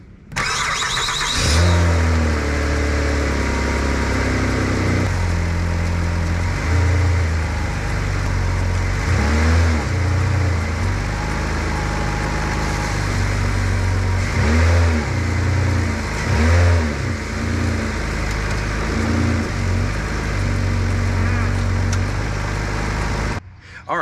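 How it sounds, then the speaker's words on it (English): A Ford Fusion engine with a bad motor mount starts up and runs steadily, with a low continuous rumble and a few rises in revs, close by. A voice talks over it at times. "let me start the motor and you can take a look and see how it behaves with a bad motor mount"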